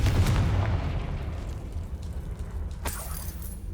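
A Confringo spell explosion in Hogwarts Legacy bursts with a loud boom at the start, and its rumble fades over a few seconds; a sharper crack follows near the end.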